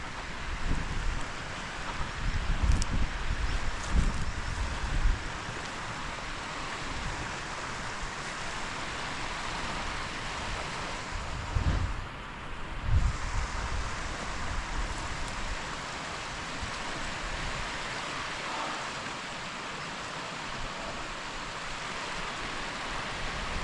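A waterfall running on a hillside on Whernside, a constant broadband rush of water mixed with wind buffeting the microphone, steady and moderately loud with occasional gusts.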